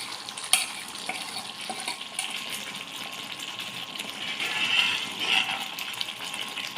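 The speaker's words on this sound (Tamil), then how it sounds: "குழம்பு நல்லா கொதிச்சிடுச்சு" Tamarind kuzhambu bubbling in a pot, a continuous soft hiss and crackle with scattered pops, rising slightly toward the end, no talk.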